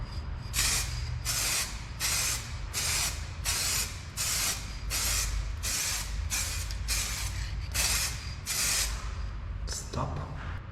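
Spray paint hisses onto a VW Sharan headlight washer cap in a rapid series of about a dozen short, loud bursts, each cut off sharply, close to the mic with brief voices in the background.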